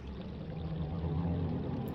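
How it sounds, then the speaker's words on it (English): Water flows steadily past a turning water wheel in the Majora's Mask video game, a continuous rushing wash with a low rumble, nearby and even throughout. "Oh man, we got some water flow going on here."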